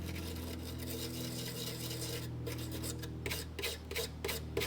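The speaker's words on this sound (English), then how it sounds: "I'm just going to use a little brass brush" Small brass brush scrubbing corroded electrical connections on a vintage Datsun 521 pickup, first a steady rasp, then quicker rhythmic back-and-forth strokes over a low background hum.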